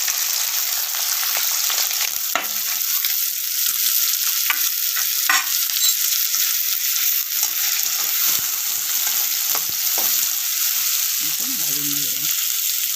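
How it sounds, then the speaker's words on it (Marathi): Onion and green chili fry in a pan alongside garlic that has already been roasted. A bright, steady sizzle runs throughout with occasional stirring knocks, close and fairly loud, and a faint voice comes in briefly near the end. "आपण कांदा आणि मिरची टाकू."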